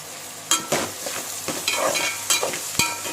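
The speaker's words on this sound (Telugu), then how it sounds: "రొయ్యలు మంచిగా వేగాలండి" Prawns frying in a pan for a gongura recipe give a continuous sizzle broken by several sharp scrapes and clinks of a stirring spoon, close and fairly loud.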